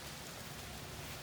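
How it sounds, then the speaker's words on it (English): Heavy rain pours down steadily and close by, a dense, unbroken hiss of drops drumming on surfaces with no pauses and no voices. "It's raining heavily over here"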